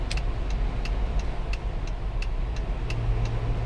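Steady road and engine drone from inside a car cruising on a highway on bigger aftermarket wheels and tires, with a faint rhythmic ticking running along under the constant rumble.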